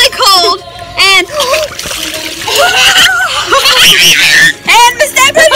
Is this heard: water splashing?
yes